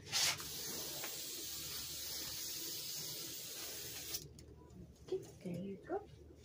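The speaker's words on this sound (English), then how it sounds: "Green spray down these greens." Green floral spray paint is sprayed onto floral greens for about four seconds as a steady, close hiss, then stops; afterwards only faint rustling and brief handling noises remain.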